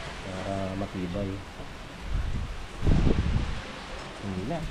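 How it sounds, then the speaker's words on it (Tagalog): Light rain and gentle wind outside a tent make a soft, steady hiss with small gusts. Someone talks over it at close range. "konting hangin, manipis na yung ulan"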